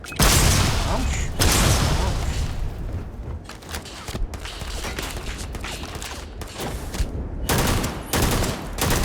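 Sci-fi gunfire in Starfield: bursts of rapid automatic shots and booms come in repeated loud volleys across the clip, with a player occasionally talking.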